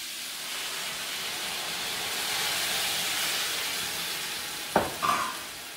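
Organic lentils hit a hot pan for a stew, producing a soft, steady hiss that swells slightly in the middle, ending with a couple of sharp clanks from a utensil or pan.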